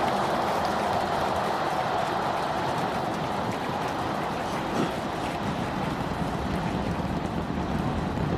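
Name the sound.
Starship rocket launch, 33 engines roaring during ascent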